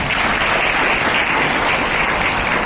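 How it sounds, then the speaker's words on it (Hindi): An audience at an Earth Day summit gives loud, sustained applause to welcome an assistant municipal commissioner, a dense, even roar of clapping with no pauses. "मैं चाहूंगा कि आप लोग जोरदार तालियों से उनका स्वागत करें"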